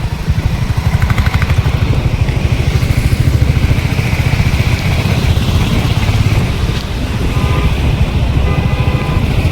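A Royal Enfield Bullet 350 motorcycle engine runs at a service showroom in Amreli, giving a loud, steady, close low thumping beat that carries through the whole stretch without talk.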